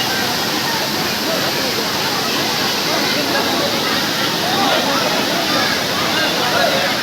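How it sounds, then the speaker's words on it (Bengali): A waterfall at Borjhora in Bongaigaon, Assam, with people bathing in it, roars as a steady, loud, close rush of water from start to finish, without a break. "কত সুন্দর ঝর্ণা।"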